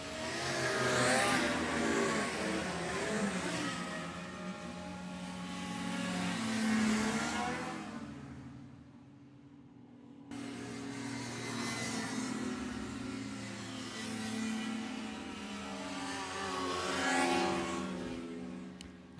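Racing hovercraft roar past at a hovercraft club race meeting, their engine noise swelling and fading in two long passes at moderate distance, the first dropping away before a second craft rises in.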